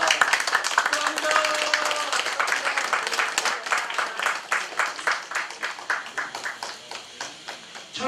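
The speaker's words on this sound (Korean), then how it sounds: "박수로 부탁드립니다." An audience at an anniversary ceremony claps for a singers' award presentation, starting as dense applause and thinning into slower, more distinct individual claps, with some voices in the background.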